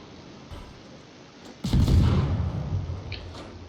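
Naval guns fire in a World of Warships battle: one heavy booming blast arrives mid-way, close and loud, then rumbles and fades over a couple of seconds above a steady low game hum.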